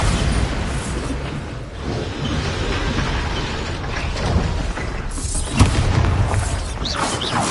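A Bombarda blasting spell explodes in a Harry Potter video game, heard as a dense, loud, continuous roar of booming and clattering mechanical noise with a sharp burst near the end.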